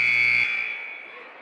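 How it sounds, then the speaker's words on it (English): A loud basketball buzzer at a high school varsity game between West Sioux and Unity Christian, one steady electronic blast that cuts off and rings out into the gym while the crowd murmurs underneath. "The second buzzer goes."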